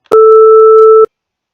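A steady sine wave tone with its third harmonic, at three times the frequency, layered on top sounds fuller and buzzier than a pure tone, close to a square wave, lasting about a second before stopping sharply.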